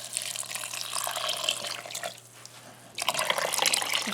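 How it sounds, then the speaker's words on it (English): Water from a tap pours steadily over dried pinto beans in a container, a continuous close splashing rush that briefly eases and then resumes at full flow, with no talking. "we're going to cover these by 2 inches of water."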